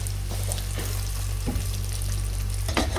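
Vindaloo chicken curry fries gently over a low flame in a pan, a soft continuous sizzle under a steady hum, with a few scrapes and clicks of stirring.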